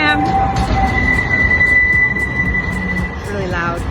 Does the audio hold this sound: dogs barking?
no